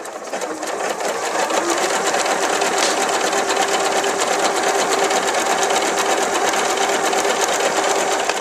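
Elna Lotus computerized sewing machine running a wide applique stitch, a loud, close, steady rapid whir that holds unbroken for about eight seconds.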